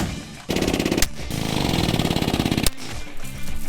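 A huck bolt tool swaging bolts into a Peterbilt truck grill makes a loud, rapid mechanical rattle that runs in two bursts with sharp bangs between them, close to the listener.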